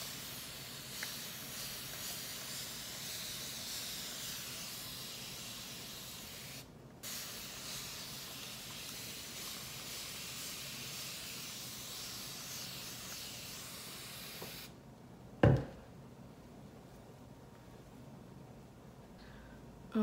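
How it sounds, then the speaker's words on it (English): Water spray bottle misted over hair during a wash-and-go routine, a steady hiss lasting several seconds, then a brief pause and more spraying, ending in a short close click and a final spritz. "my handy dandy spray bottle of water"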